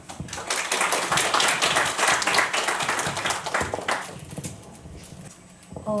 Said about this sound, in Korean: 많은 박수로 맞이해 주시기 바랍니다